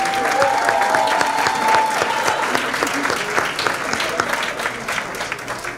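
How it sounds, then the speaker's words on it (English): A crowd applauds steadily, with a sustained wash of clapping and a brief whistle early on, slowly tapering toward the end. "One more time, let's hear it for the amazingness of Jaquia May"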